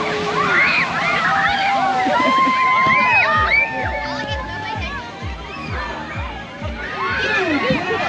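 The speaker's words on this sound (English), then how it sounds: "just getting sprayed by the fire department" A fire department hose sprays water over children at an outdoor summer splash event, with steady splashing and sloshing under loud overlapping kids' voices and crowd chatter throughout.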